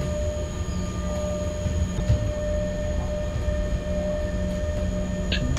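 An E186 electric locomotive hauling a freight train in the SimRail 2021 rail simulator on the Katowice–Sosnowiec line brakes with a steady, dense rumble of wheels and running gear and faint thin tones above it, continuous throughout.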